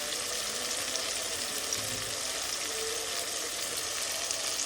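Chilies frying in hot oil with salt and spices, a constant dense sizzle that stays even and close throughout, with no voices over it.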